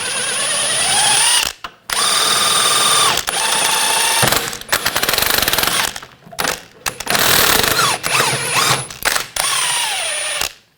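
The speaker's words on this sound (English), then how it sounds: "On the other side, use a 21mm wrench on the nut" Loud mechanical tool bursts loosen a 21mm nut on the rear control arm of a 2000-2006 BMW X5, coming in several long whirring runs with brief pauses between them.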